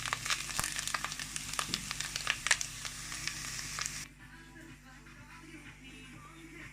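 Corn and onion frying in a pan while turning golden give a crackling sizzle with sharp pops that cuts off abruptly partway, leaving a quiet, dull background.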